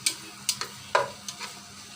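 Fish roe frying with onions in a pan, stirred continuously with a utensil: a soft sizzle broken by several distinct scraping clacks at irregular intervals, close and without talk.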